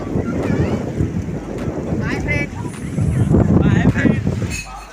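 Strong wind buffets the microphone near the Krishna River at Nagarjuna Sagar, making loud, gusty low-end roaring that swells and fades under a person talking throughout.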